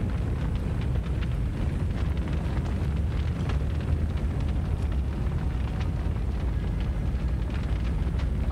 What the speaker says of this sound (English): that's hell of a fire